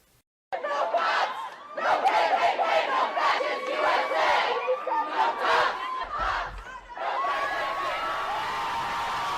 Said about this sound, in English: Because they're toppling the monument, destroying the monument, and then cheering like they've done something grand and glorious